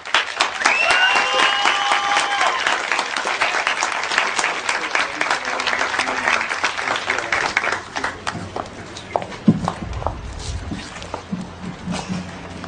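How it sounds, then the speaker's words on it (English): A rally crowd in Frankfort, Kentucky breaks into loud, sustained applause welcoming Rand Paul to the stage; the clapping stays dense for several seconds, then thins out into scattered claps and a few thumps. "please give a big Central Kentucky welcome for Dr. Rand Paul"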